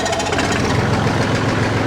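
A straw blower drum turned by a small tractor's oil motor runs with a loud, close, steady mechanical rattle and throbbing engine drone, continuous throughout with no voices.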